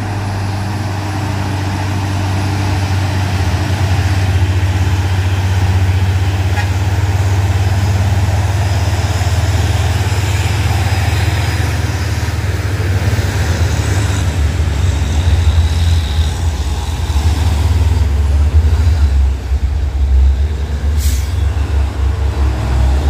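A heavy truck hauling a trailer labours up a steep hill at Bukit Kodok, its engine droning low and loud under strain, with a steady rumble of road traffic around it and no one speaking.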